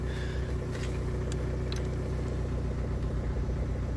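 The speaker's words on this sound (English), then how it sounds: "Now that the engine runs" Car engine idling steadily nearby after a battery test with a multimeter, a low, even rumble with a constant hum and no change in revs, heard alone without talk.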